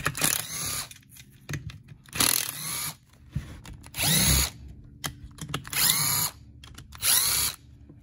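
A power tool pulls bolts off a salvaged junk small engine in short bursts, about five whirring runs of roughly half a second each, separated by quieter pauses with small clatter, close and loud.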